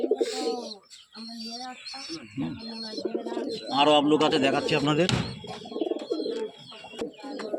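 Abluk pigeons coo and flutter close by while someone talks over them, the soft throaty calls repeating through the clip.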